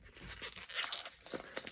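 Tarot deck packaging is torn open in close, crackling rips and crinkles that come in quick uneven bursts.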